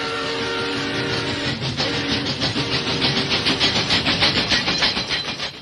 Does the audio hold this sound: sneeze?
no